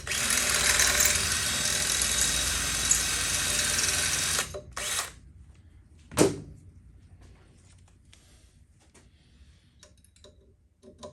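Power drill boring a larger hole with a bigger bit during work on a Honda CT70 motorbike, a steady close whine for several seconds that stops abruptly, followed by a couple of brief clicks and a quiet workshop.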